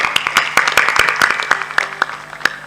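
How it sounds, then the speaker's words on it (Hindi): An audience at a religious discourse claps in a loose, uneven burst of separate hand claps, close and lively, thinning out toward the end. "ताली बजा दो इनके लिए सब लोग।"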